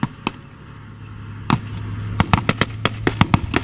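Gunfire and artillery echo through a war zone in Syria, with scattered sharp shots and booms, some in quick clusters, over a steady low drone, fairly near and loud, with no talk.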